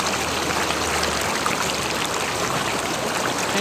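A strong river current rushes in a steady, loud, unbroken roar at a budget campsite in DRT, Bulacan, with no talking.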